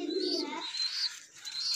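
Pigeons at a breeding loft give a low, throaty coo that fades after a moment, followed by higher chirping bird calls nearby.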